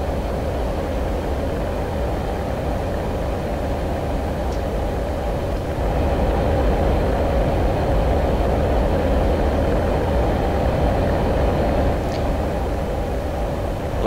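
YF-12A Blackbird jet engines held at full throttle in a flight game, a steady loud broadband roar that grows slightly louder midway and sustains without a break.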